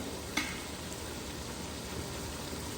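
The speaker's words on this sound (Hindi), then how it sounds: "गोश्त को मैंने तकरीबन 3 से 4 मिनट तक प्याज के अंदर भून लिया है" Mutton frying with onions in a pan for palak gosht, a steady close sizzle with faint crackling and a single clink early on.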